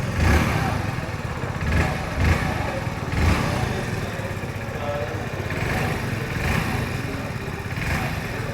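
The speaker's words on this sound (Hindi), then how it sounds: "एग्जॉस्ट नोट भी सुन लेते हैं चलो।" A 2025 Hero HF Deluxe Pro or Splendor Plus 100cc motorcycle idles at close range with a steady, even exhaust putter and a few slight throttle blips.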